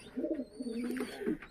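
Fancy coloured pigeons at a seller's loft give a short, soft burst of low rolling coos, two or three throaty phrases close by against quiet background.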